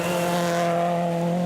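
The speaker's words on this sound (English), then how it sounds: "He's driving Greg Murphy's Holden AP4 on this event" A Holden AP4 rally car on a gravel stage at Rally Waitomo drives with a strong, steady engine drone that holds a sustained pitch for about a second and a half, close and loud.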